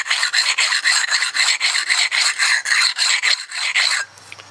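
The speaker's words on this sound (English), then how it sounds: "Can be easily sharpened. Well, as easily as this can be sharpened, with a flat stone right along the edge." Flat sharpening stone drawn along a blade edge in steady rhythmic strokes, about a dozen close, loud rasping passes that stop near the end, leaving quiet.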